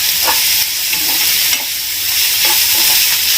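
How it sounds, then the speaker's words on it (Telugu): Green chillies fry in a pan with a loud, steady hiss, and brief scrapes of stirring rise over the constant sizzle. "వేగుతుంది."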